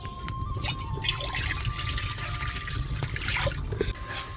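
Water splashes and gurgles into a kadhai in an uneven stream for cooking masoor dal, with some drips, set against a low background rumble.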